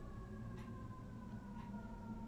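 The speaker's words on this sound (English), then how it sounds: "it wouldn't be a live stream without the ambulance coming by my house" An ambulance siren passes by a house, its steady wailing tones holding throughout at a moderate distance, faintly rising and falling, with no voices present.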